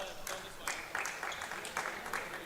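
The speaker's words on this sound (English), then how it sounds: "And Araha gets an applause from his bench." Light applause rises from the team bench at a futsal match, a few scattered bursts of clapping that come and go under an ongoing commentary voice.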